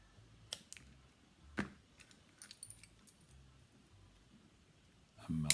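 Scissors cutting paracord for a craft project: a few sharp, close snips and clicks spread over a few seconds, with quiet handling noise in between.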